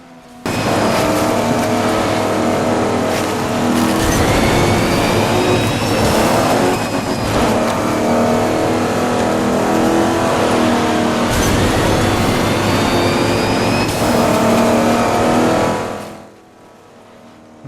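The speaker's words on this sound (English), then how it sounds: "And racing trucks." Racing trucks tear through an off-road simulator game, their engines roaring and revving loudly through repeated gear shifts for about fifteen seconds before cutting off abruptly, with no talk.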